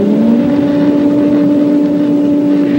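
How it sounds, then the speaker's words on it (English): A wind tunnel's air jet motor runs at steady speed while drag is measured, giving a loud, continuous hum with a strong low tone and broad rushing air, without pause and with no talking. "I'm going to start the motor now."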